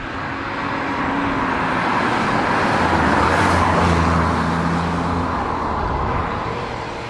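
BMW 323ci running on ethanol, its six-cylinder engine accelerating close by in one strong, sustained rising roar that swells and then eases off.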